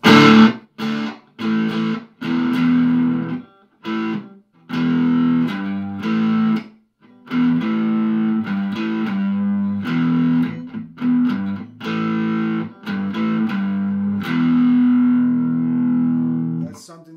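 Distorted electric guitar strums short bursts of power chords, loud and close, with brief pauses between the chords.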